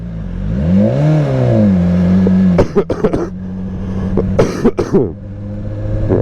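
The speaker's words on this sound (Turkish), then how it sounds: "Debriyaja basmadan ses düşürmek muhteşem bir şey." A BMW S1000XR motorcycle engine revs up and drops back during clutchless shifts, giving a strong, near droning tone that rises and falls, interrupted by several sharp coughs.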